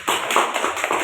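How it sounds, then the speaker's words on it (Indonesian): Applause from a classroom of students cheering a pupil group, a dense run of rapid overlapping claps with several louder bursts, close and steady for about a second. "Tepuk tangan untuk kelompok merpati."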